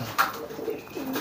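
Pigeons in a breeding loft, offspring of birds that recovered from Newcastle disease, coo softly at close range, with a few short throaty calls over a low background hum.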